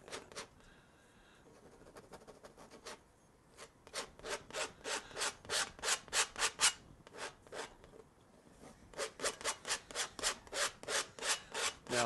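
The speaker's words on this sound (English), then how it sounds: "Now I'm scraping this off just like this, because I don't want too much paint left on there." A palette knife or scraper drags paint off a canvas painting in repeated rhythmic rasping strokes, close and fairly loud, arriving in fast bursts with short pauses between them.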